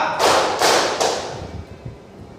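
A class of schoolchildren claps a rhythm pattern together, three sharp broadband group claps spaced about a third of a second apart, then softer scattered taps trailing off in a classroom.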